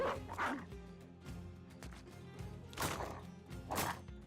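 A dog barks in the Battle Brothers video game, two sharp yips standing out over dense battle noise and background music, with a few fainter barks scattered through the clip.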